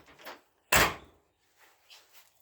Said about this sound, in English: The passenger, these doors close so nice.